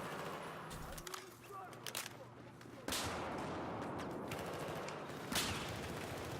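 Gunfire from a Battlefield 4 match on PS4, a mix of distant rattling bursts and scattered single cracks, with sharper close shots near the middle and end, under quiet game ambience and occasional speech.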